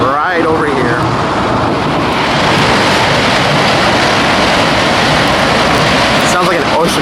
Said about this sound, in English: It's that dump truck that I showed you earlier that's dumping rocks right over here.